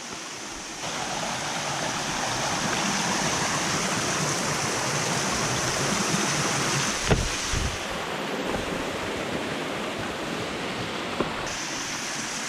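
Cedar Run Creek in Shenandoah flows steadily along a hiking trail, a broad continuous rush of water close by, with a couple of faint knocks and no talking.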